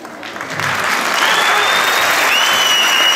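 Applause breaks out at an award ceremony, starting lighter then swelling into loud, steady crowd clapping, with a faint whistle-like tone rising above it.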